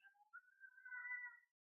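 A domestic cat gives a single drawn-out, rising-and-falling meow of about a second and a half, quiet and alone with no talking.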